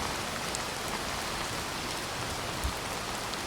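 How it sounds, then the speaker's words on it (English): Steady rain falls on outdoor surfaces, a dense, even hiss of drops close by, with a single louder splash near the end and no voices. "Rain starting to subside a little bit as those clouds drift away."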